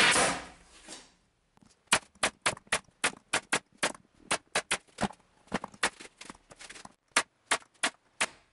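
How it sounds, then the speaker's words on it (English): Air nailer driving nails into a wooden U-shaped sawhorse base, a burst of air hiss followed by about twenty sharp, evenly paced pops close by, with no talking. "for the rigidity some nails from the air nailer"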